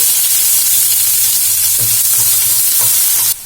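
Finely chopped onion frying with cumin and chana dal for evening snack bondas, a loud, dense sizzle close by with a few stirring scrapes, ending abruptly.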